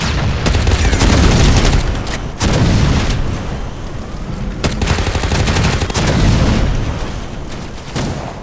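Heavy gunfire and grenade blasts in the shooter game Shadowgun War Games: dense automatic bursts punctuated by loud booming explosions, close and continuous throughout.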